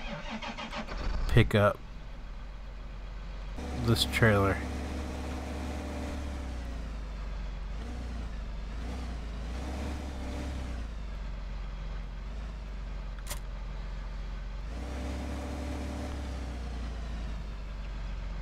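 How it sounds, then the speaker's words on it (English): A tractor engine in Farming Simulator 15 runs with a steady, low droning hum throughout. A few brief clunks sound near the start, and someone talks over it. "Let's test out the tractor"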